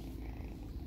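A British Shorthair cat purrs softly and close by, a faint low continuous rumble lasting about a second with no talking.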